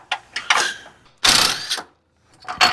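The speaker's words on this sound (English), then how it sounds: "I got my impact wrench." Bursts of an impact wrench with a 17mm socket removing bolts under a Nissan Z, several short rattling hammering pulses separated by pauses, close and fairly loud with no talking.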